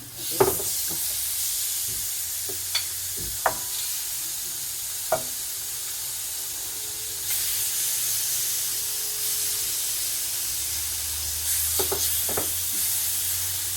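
Marinated spicy duck bulgogi is tipped onto a stone frying pan, a few sharp scraping knocks ringing out over a sustained steamy hiss that swells louder halfway through.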